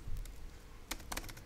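Computer keyboard typing out an xdotool command on a Linux system: a quick, close run of crisp key clicks in two short bursts, with no voices.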